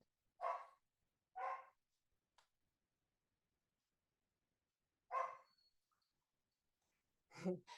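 A puppy barks in short, sharp yips, two close together, then another after a pause and one more at the end, fairly quiet against a silent background.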